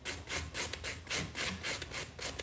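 Sandpaper worked by hand along the edge of a painted wooden piece being distressed, giving steady rhythmic scratchy rubbing strokes, close and fairly loud, about ten passes with no talking.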